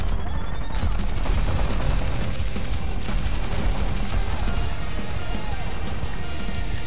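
A .50 cal gunner's machine gun rattles in rapid, dense bursts aboard an aircraft in War Thunder simulator, loud and close over a constant engine and battle roar.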